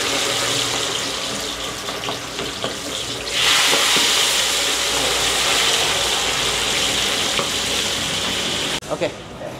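Chicken fries in hot oil with a steady, loud, close sizzle that swells partway through and keeps going, broken near the end by a few sharp clatters.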